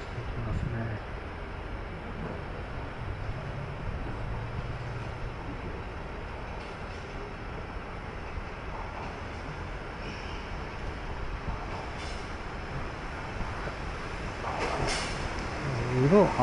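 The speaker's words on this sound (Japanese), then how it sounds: "まもなく入線していきますね。" A JR Hokkaido Class 261 limited express train bound for Sapporo rumbles into a station, its low mechanical noise building over time, with voices and platform sounds around it.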